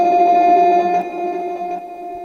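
A glitchy, sustained swell texture with a panning effect and delay, built from steady tonal layers that hold, then dip slightly and carry on as a soft, continuous drone with no voices.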